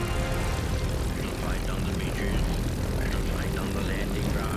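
A Spitfire LF Mk. IX engine idles in the DCS flight simulator, a loud continuous propeller drone with steady low rumble throughout and no break.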